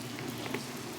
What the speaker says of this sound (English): here is my pork roast. Just came out of the oven. It's sizzling